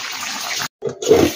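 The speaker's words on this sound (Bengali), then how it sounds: "আমি এখন বাঁধাকপিগুলোকে ছেঁকে নেব।" Water from boiled cabbage pours and splashes out through a strainer in a close, loud gush, broken by one brief silent gap before the pouring resumes.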